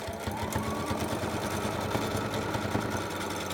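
A sewing machine stitches a wig cap with a fast, steady, close-up mechanical chatter that runs continuously with no talk.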